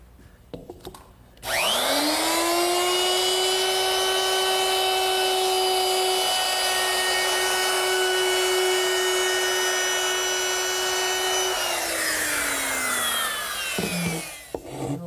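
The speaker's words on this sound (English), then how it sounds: "To make that round over, I'm using a 3/8 inch radius round over bit, but I've only exposed part of the cutting edge" Router fitted with a 3/8 inch radius round over bit, only part of its cutting edge exposed, cutting a slight round over into wood: a loud, steady high-pitched whine that spins up, holds for about ten seconds, then winds down.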